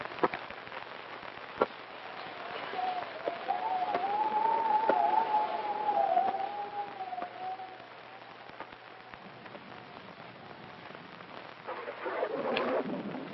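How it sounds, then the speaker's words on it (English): Steady rain patters throughout at a moderate level, with a low distant rumble swelling and fading midway and a brief louder gust near the end. "It's liable to rain all night."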